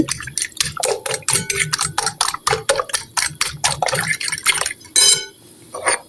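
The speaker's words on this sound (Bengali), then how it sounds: "এখন আমি ভালো করে সব কিছু মশলার সঙ্গে ভালো করে ফেটে মিশিয়ে নিচ্ছি" Eggs being beaten with spices and pieces of stale roti in a bowl, a quick rhythmic run of close wet whisking slaps and clinks, loud and continuous with a short pause before the last strokes.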